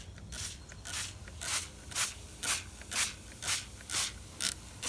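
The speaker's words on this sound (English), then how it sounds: "now you're just going to spray your vinegar on to the coffee filter" Vinegar sprayed from a pump spray bottle onto a coffee filter dyed with food colouring, heard as about nine short, crisp hissing spritzes in a steady rhythm, close and fairly loud with no voices.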